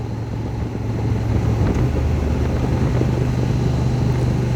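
A Honda Transalp 750 motorcycle underway, its engine a steady low drone mixed with wind rush, continuous and close, growing slightly louder after the first second.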